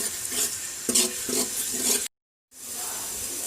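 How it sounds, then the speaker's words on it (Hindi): Browned onions stirred together with freshly added ginger-garlic paste in a pan, a scraping, sizzling stir in a few strokes with a short silent gap partway through. "इसके बाद हम इसमें ऐड करेंगे अदरक लहसुन का पेस्ट और इसके बाद हम इसको अच्छे से मिक्स करेंगे।"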